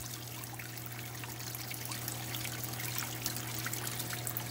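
Water trickles steadily in an aquarium tank after its filter is removed, a faint, continuous dribbling over a low, constant electrical hum.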